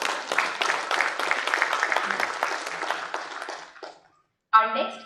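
An audience at an SME manufacturers and exporters summit inaugural session applauds, a dense wash of clapping that fades out over a few seconds before a brief silence and a short burst of another sound.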